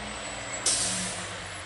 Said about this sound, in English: Here comes the first truck.